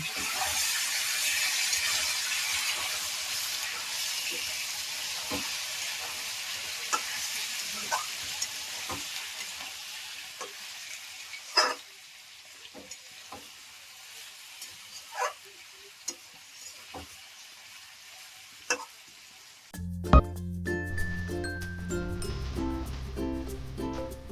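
Potatoes frying in a pan, a steady close sizzle with occasional stirring clinks, switching near the end to a burst of music.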